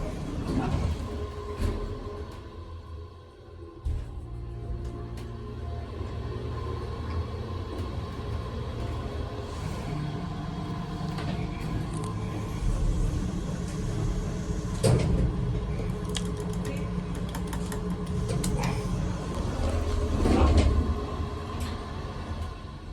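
Vintage original Northern hydraulic elevator in an old community centre: the door shuts with a few clunks and knocks, then the car runs with a steady low mechanical hum and rumble, plus occasional rattles and a voice in the background.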